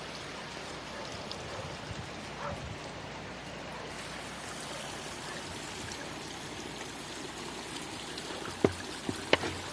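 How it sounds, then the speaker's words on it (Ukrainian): Mountain water flows in a steady, close rushing stream, a broadband wash with a few sharp knocks near the end. "Це стала вода з гір тече."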